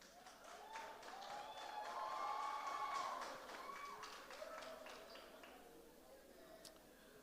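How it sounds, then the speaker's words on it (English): An audience claps for the Young Jamaican Ensemble at the St. James Festival Queen Coronation, a soft, distant patter of hands that swells and fades beneath a voice speaking over it. "Please give a round of applause one more time for the Young Jamaican Ensemble."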